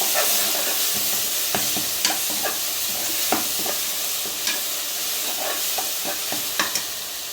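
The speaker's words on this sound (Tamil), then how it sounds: "அது இன்னும் தக்காளி கொஞ்சம் நல்லா வதக்கிக்கலாம்" Tomatoes sauté in a hot pan for a Tamil-style mutton curry, a steady sizzling hiss with repeated scraping stirs of a spoon across the pan, close and loud.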